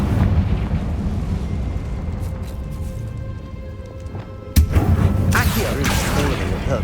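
A sudden loud Confringo blasting spell explosion in Hogwarts Legacy, a sharp burst in the second half that follows a quieter stretch of ambient game sound and rings on with crackling debris.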